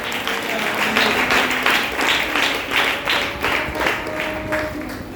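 An audience claps after a Bible reading on love at a Christian gathering, many hands in a sustained, slightly pulsing round of applause with faint voices mixed in.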